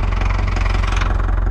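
A tractor engine runs nearby on an ostrich farm, a steady loud low diesel chugging with an even rhythmic pulse throughout.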